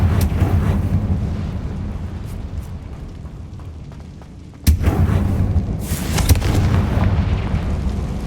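A Confringo blasting spell in the video game Hogwarts Legacy goes off as one sharp, loud explosion midway through a continuous low rumble of battle noise, followed by further crackling bursts.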